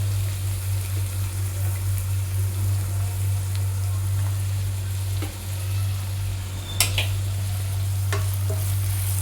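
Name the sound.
onions frying in oil until golden brown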